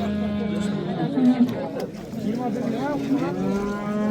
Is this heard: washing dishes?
no